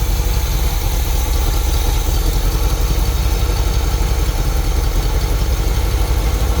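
An idling car engine with a used cam and a blown clutch, a steady loud mid-to-low rumble with fast even pulsing, running on continuously and close up.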